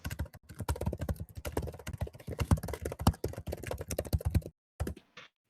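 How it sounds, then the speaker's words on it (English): Rapid typing on a computer keyboard, dense irregular key clicks heard close and clear. A short silent gap near the end is followed by a few final taps. "Damn, that typing."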